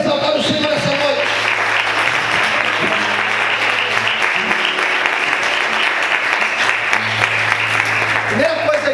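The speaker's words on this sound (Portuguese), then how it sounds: "Você pode aplaudir e exaltar o Senhor essa noite" An evening church congregation applauds in praise, sustained dense clapping throughout, with a voice speaking and some tonal sound underneath.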